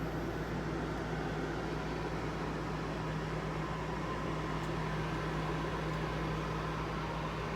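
A steady, even whoosh of the air conditioner fan in a 2018 Geo Pro 19FBS travel trailer runs at low volume with a faint constant hum underneath, unchanging throughout and without any voices.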